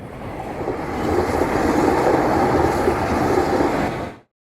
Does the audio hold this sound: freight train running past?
yes